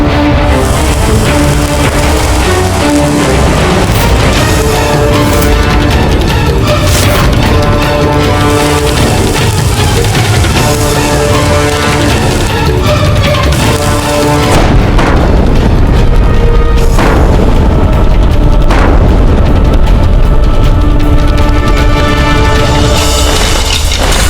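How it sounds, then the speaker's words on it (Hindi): Cannons fire in a battle scene set in Mughal-era India, a dense stretch of deep booms and crashing blasts, loud and close, with repeated impacts over a continuous heavy roar of battle noise. "चलाओ तोप।"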